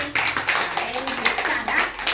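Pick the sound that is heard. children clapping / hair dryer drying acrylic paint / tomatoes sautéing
children clapping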